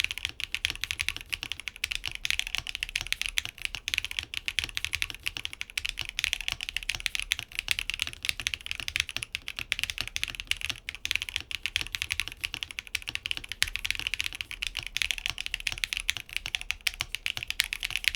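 Steady, fast typing on a Qk100 mechanical keyboard built with a hard gasket mount, with dense, even clacks of keystrokes close up and no voices.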